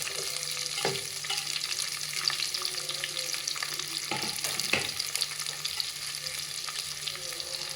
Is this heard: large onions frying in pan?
yes